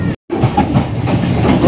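The Cikuray passenger train rolls toward Bekasi station, heard from inside as a loud, continuous rumble with rhythmic wheel clatter after a brief cut in the sound.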